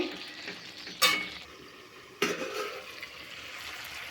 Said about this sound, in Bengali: ঢাকাটা খুলে আরেকবার আমি নেড়ে দেব